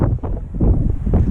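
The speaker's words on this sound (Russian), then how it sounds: "здесь ветер такой, что я переживаю за мотоцикл, как бы его не сдуло." Strong wind by a bay near San Francisco buffets the microphone in a loud, gusty roar over a short stretch, with no other sounds standing out.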